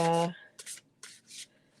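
A deck of cards shuffled in short riffling bursts at close range, following a brief spoken fragment at the start.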